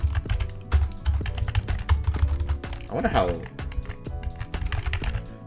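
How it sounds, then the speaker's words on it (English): A loud computer keyboard clatters in rapid, continuous keystrokes close to the microphone while someone talks over it during a Pokémon battle. "my keyboard's really loud"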